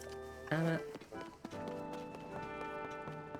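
Horse hooves galloping across terrain in Zelda: Tears of the Kingdom, a steady clip-clop running under game music and ambient tones, with a louder burst near the start.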